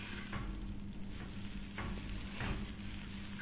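Chow mein stir-fried with salt and pepper over a high flame sizzles steadily, with a few scraping stirs of the spatula against the pan and no talking.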